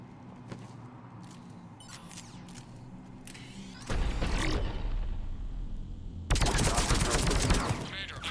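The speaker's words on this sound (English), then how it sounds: "The cannon fire is clearing the way." Cannon fire in a sci-fi video game, booming bursts that build from a distant rumble to two loud sustained barrages, with faint background noise between them.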